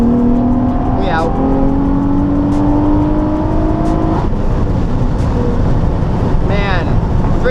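A 2006 Nissan 350z with a muffler delete drives under load, a loud raspy exhaust drone rising in pitch through the revs with gear shifts, heard from inside the car with voices talking over it.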